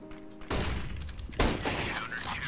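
Rapid gunfire bursts in a CS:GO match, dense and loud with a heavy crack near the middle, while a voice speaks briefly under the shooting.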